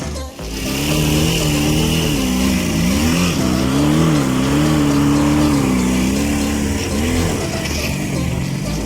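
Izh Jupiter 5 motorcycle engine revving up and down, a loud close two-stroke roar rising and falling in waves, sustained without a break.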